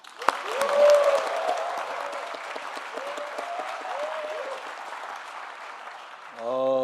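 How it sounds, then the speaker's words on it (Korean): An audience at a public presentation in Jeonbuk claps in a loud burst that slowly thins out, with someone speaking over the fading applause near the end. "아마 기죽지 말라고 이렇게 박수를 쳐주신 것 같습니다"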